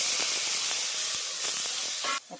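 Ingredients hiss loudly in hot oil after mustard seeds have popped in a pan, a dense, steady sizzle that cuts off abruptly near the end.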